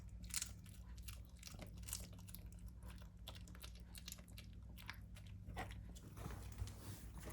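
A small dog crunches and chews a treat indoors, giving close, quiet, irregular bites and crunches with a low background hum and no talk.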